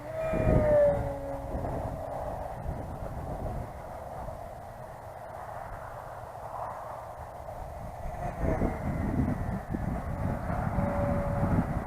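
A Flitework/Skywing Red Bull T-28 radio-controlled model airplane flies with a steady motor drone that swells and fades as it passes, louder near the start and again toward the end, with no talking.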